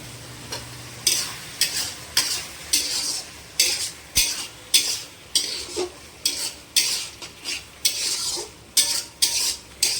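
Potatoes cooking in a ghugni pan while being stirred, repeated rhythmic scraping strokes of a utensil against the pan over a soft sizzle, close and fairly loud, no talking.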